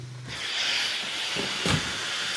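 A steam iron hisses steam onto suit trousers: a steady, close, broadband hiss that starts after a short quiet moment and carries on to the end, with a brief stronger puff near the close.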